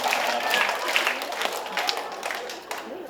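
Audience applause fills a talk-concert hall, a dense, steady wash of clapping lasting about three seconds, loud and close with faint crowd noise underneath.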